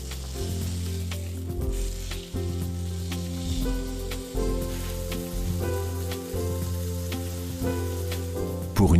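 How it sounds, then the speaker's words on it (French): Meat searing in a hot Demeyere stainless steel pan, a strong steady sizzle with crackling pops and occasional stirring clatter, close and continuous throughout, no talking. "Attendez 10 secondes et disposez la viande dans l'ustensile de cuisson."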